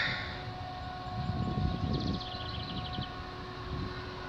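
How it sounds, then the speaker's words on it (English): CN mixed manifest freight train passing at Scotch Block, a low rumbling roll of rail cars with a faint steady tone and a brief higher squeal partway through, heard from trackside. "CN train at Scotch Block"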